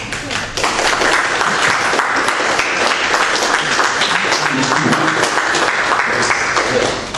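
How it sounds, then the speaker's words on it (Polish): Sustained applause from an audience at a parliamentary-style session, loud, dense clapping that runs steadily for several seconds with some voices mixed in underneath. "Te oklaski są bardzo zobowiązujące"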